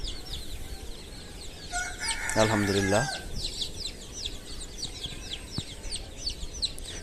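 A chicken on a small backyard farm lets out a loud, short crow-like squawk, surrounded by steady bird chirps and faint clucking, with brief speech nearby.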